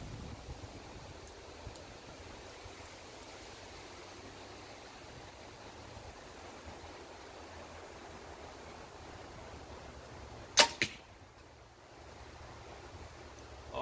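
An arrow leaves a Perform X bow during torque tuning, making one sharp, abrupt snap over quiet outdoor wind noise.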